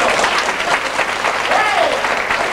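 An audience at a performance of the operetta Les Saltimbanques claps loudly and continuously, with a voice calling out over the applause.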